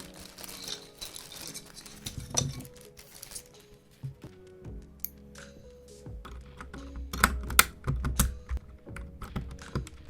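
Fingers type on a Mageegee Star 61 budget mechanical keyboard fitted with Outemu brown switches, giving irregular, close clacky keystrokes with short pauses and a few louder bottom-outs and rattles.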